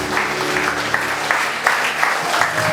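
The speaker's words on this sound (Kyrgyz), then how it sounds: "калың журт бир кол чаап берсе" A crowd at a circumcision celebration feast claps together in a dense burst, with a few sharp louder claps poking out of the steady applause.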